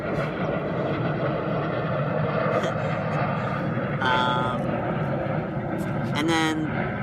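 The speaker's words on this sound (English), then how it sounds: "Lots of planes here. There must be an airport nearby." A continuous heavy roar of airplanes flying overhead near an airport fills the scene, loud and steady, with brief higher whines and faint voices mixed in.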